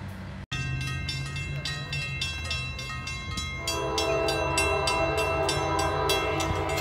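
Two freight trains, a CSX and a Norfolk Southern, pass near a railroad diamond in Marion, Ohio, with a loud steady rumble of rolling cars and a sustained horn blast that swells louder midway and stays close.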